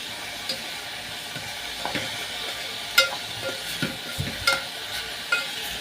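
Vegetables sizzling and frying in a pan for Kenyan mukimo, a steady hiss with intermittent scrapes and taps of a utensil stirring.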